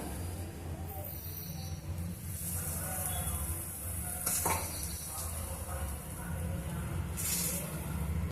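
Jowar masala roti roasting in oil on a hot pan, a quiet steady sizzle with occasional utensil scrapes and a couple of brief louder hisses, no speech.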